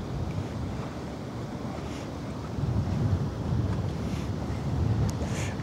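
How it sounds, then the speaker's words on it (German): Strong wind buffets the microphone on the open deck of the AIDAprima cruise ship leaving Hamburg, a continuous loud rushing roar that swells in gusts. "Also hier ist zieht gerade ordentlich Wind auf."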